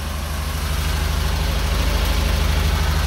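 A Fairmont MT14 rail motor car engine idles with a close, loud, even low chugging pulse that holds steady throughout, with no voices.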